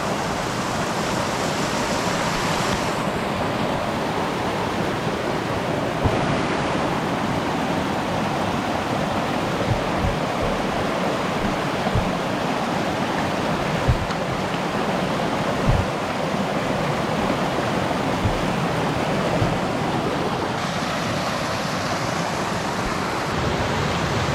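Steady, full-bodied rush of a waterfall on a creek along the Black Forest Trail, constant and loud throughout with no other sounds standing out.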